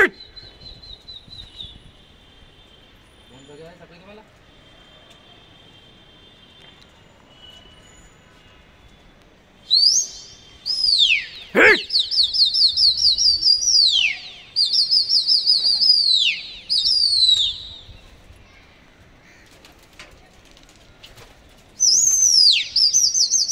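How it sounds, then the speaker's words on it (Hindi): Pigeons take off in bursts of wing flapping, several separate flurries of loud, close flutter broken by quiet gaps, with faint background noise and no talk. "तो दोस्तों कबूतर चल चुके हैं अपने।"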